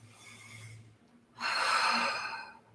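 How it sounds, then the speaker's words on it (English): A strong, deep breath during a yoga workout: a soft, quiet inhale through the first second, a brief pause, then a loud, full exhale rushing out and slowly fading. It is close to the mic, with no talking. "Take 2 big breaths."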